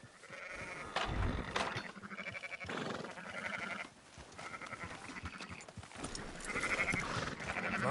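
Sheep bleat repeatedly in Red Dead Redemption II, several drawn-out, wavering calls close by, overlapping in irregular bursts with some background movement between them.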